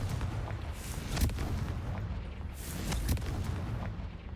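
Confringo fire spell exploding in Hogwarts Legacy, two heavy booming blasts about two seconds apart over a dense rumbling game soundscape, loud and close.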